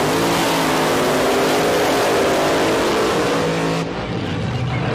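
Pontiac Firebird alcohol funny car doing a drag race burnout, a loud, sustained roaring engine with dense tire and exhaust noise filling the whole stretch, easing slightly near the end.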